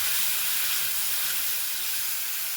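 Water poured into a hot pan of ground roasted peanuts and sesame seeds hisses in a steady, loud broadband sizzle that holds evenly throughout, close up with no one speaking.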